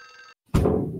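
Telephone ringing in the horror video game Clock Tower: a short electronic trill with harmonic tones, then a cut to silence and a sudden loud, dense burst of game noise.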